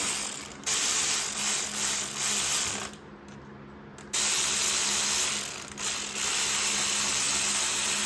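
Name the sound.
ratchet snugging down head gasket bolts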